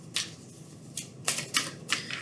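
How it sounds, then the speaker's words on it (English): An oracle card deck is shuffled in short crisp riffles, four or five brisk papery bursts spaced unevenly, close and fairly quiet with no speech. "We are just going to shuffle and lay out."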